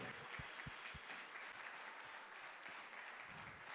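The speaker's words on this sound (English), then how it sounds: "one more applause for Kristin Holte, second fittest woman of the world of Norway" Faint, distant audience applause at a CrossFit competition in Gamlebyen, a steady patter of clapping with a few closer, sharper claps standing out.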